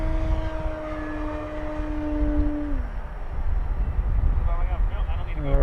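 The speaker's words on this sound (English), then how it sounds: "the throttle wide open. Just a really hot performing plane" A powerful scale model airplane flies at wide open throttle, its engine a steady high-pitched whine that slides lower partway through as it passes, heard from a distance under outdoor wind noise.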